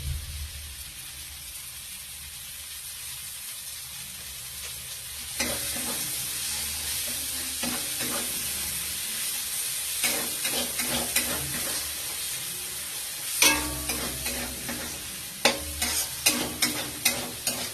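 A spoon stirs sour yogurt into a spiced masala frying in a pan with broccoli, steady sizzling under bursts of scraping and clattering strokes against the pan, no voices.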